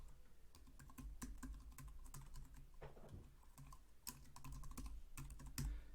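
Quick bursts of keystrokes on a computer keyboard, an irregular close clatter of clicks with brief pauses while an email address is typed in.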